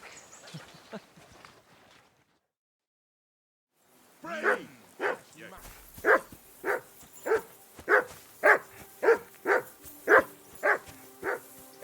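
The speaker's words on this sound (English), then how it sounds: "I assume you can hear that damn dog of yours barking" A dog in the video game Kingdom Come: Deliverance barks repeatedly in a steady rhythm, about a dozen loud, sharp barks close by, following a few seconds of quiet.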